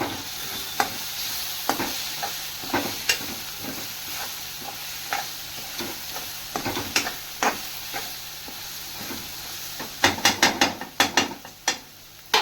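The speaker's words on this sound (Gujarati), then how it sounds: "હવે આને બધા મસાલાને મિક્સ કરી દઈશું." Turmeric, chilli and coriander-cumin powder are mixed into a masala sandwich filling with a spoon, making irregular tapping and scraping strokes over a faint sizzle and ending in a quick burst of sharp clinks.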